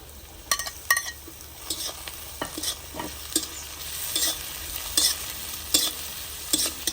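Carrots, onions, capsicum and tomatoes sautéing in a pan over a wood-fired chulha for masala Maggi, a steady close sizzle broken by repeated stirring scrapes, with no voices.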